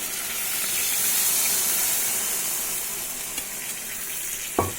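Soybean and pointed gourd curry sautés in a pan with a continuous, close sizzle and hiss, broken by a brief stir or clink near the end, with no talking.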